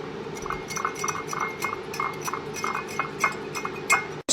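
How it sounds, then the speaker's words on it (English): A utensil clinks and taps rhythmically against a bowl while milk, salt and pepper are mixed in, a steady series of light, close knocks with no talking. "Now it's time to mix."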